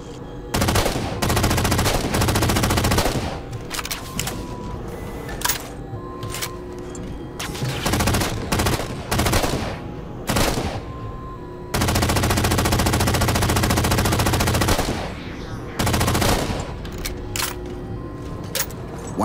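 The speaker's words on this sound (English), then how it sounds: "Taking fire, starboard side!" Sustained automatic gunfire from a Halo 4 battle, loud bursts of rapid shots broken by brief pauses and a few single cracks over roughly twenty seconds, with no talk.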